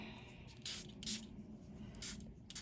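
Short hissing bursts of spray repeat in uneven pulses over a low steady hum.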